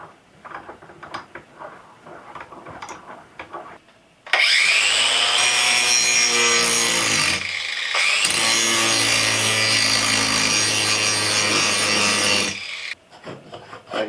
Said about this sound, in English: Just a simple cordless Porter cable grinder.